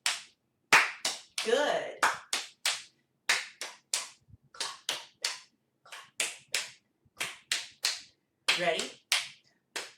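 A group performs a rhythm exercise of sharp, evenly spaced claps and pats on the body in repeating patterns, close and crisp against silence, with an instructor briefly speaking between beats.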